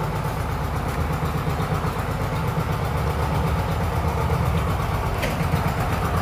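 Outboard boat motor running before its first trip into the open sea, a continuous loud rumbling idle with a steady mid-low drone throughout, close by and without talk.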